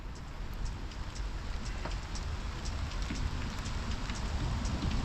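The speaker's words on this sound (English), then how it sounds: "Hope the rain subsides." Steady rain falls outdoors during work on a 1971 Datsun 510, a constant dense hiss of drops spattering on surfaces, unbroken and alone with no voices.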